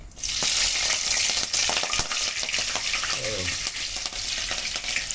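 Green chillies with cardamom, cloves and cinnamon frying in hot oil for a Telugu korameenu fish curry, a steady bright sizzle with stirring clicks throughout and a brief bubbling burst midway.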